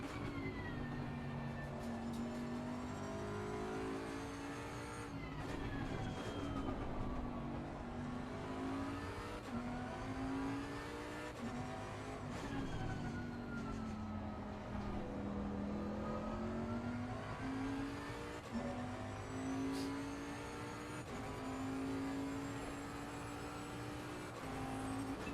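Bentley GT3 race car engine in the Assetto Corsa sim racing game, a steady loud drone rising and falling in pitch through gear changes and corners, running continuously with no speech.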